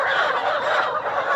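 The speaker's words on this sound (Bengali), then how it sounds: "আমাদের 1 নাম্বার শেড থেকে মুরগি ডেলিভারি হচ্ছে" Layer chickens crowded in a poultry shed, a dense, continuous chorus of overlapping clucks and cackles, moderately close and with no voices over it.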